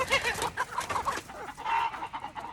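Chickens in a coop cluck in quick, uneven bursts, close and fairly loud, with the birds sounding agitated and a drawn-out call rising near the end.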